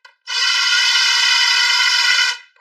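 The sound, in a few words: drilling holes in wood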